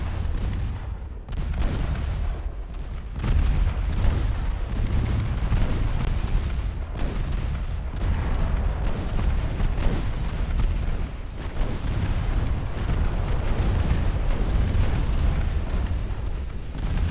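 Battleship secondary guns firing at close range in a naval warfare game, a dense, continuous series of booming reports and explosions that rumble without pause.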